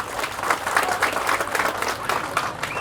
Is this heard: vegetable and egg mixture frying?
no